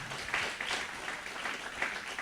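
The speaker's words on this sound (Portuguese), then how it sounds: "Vamos aplaudir o Deus Todo-Poderoso." Congregation at a Pentecostal-style church service applauding God, steady broadband clapping at moderate level with a few swells, no clear speech over it.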